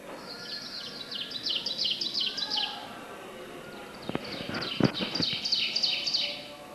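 Ovenbird song in an Algonquin Park sugar maple hardwood forest in May, repeated bright chirping phrases at moderate distance, with a few faint knocks and a quiet interval between bursts.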